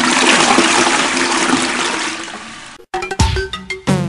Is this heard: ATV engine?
no